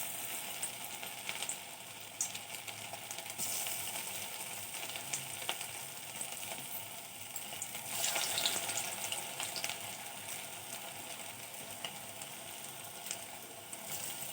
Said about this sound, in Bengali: তেল গরম হয়ে গেছে, পুলিগুলো দিয়ে দেবো।